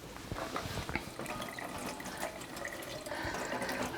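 A tap runs steadily into a sink as a Tineco cordless vacuum cleaner filter is rinsed under it, giving a soft, continuous splashing and gurgling close by with small irregular spatters and no talking.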